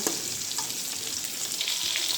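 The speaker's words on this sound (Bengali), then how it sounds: "মাছগুলো ভাজা হয়ে যাচ্ছে এক পাশ হয়ে গেছে অন্য পাশটা আমি উল্টিয়ে দেব" Rohu fish pieces fry in hot oil in a pan for a tomato rohu curry, giving a steady, close hiss of sizzling with faint crackles and no voices.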